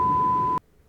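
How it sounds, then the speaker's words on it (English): A single steady censor beep tone sounds loud over a spoken word, holding for about half a second before cutting off abruptly into near silence. "we'll beep it out because I want to say it"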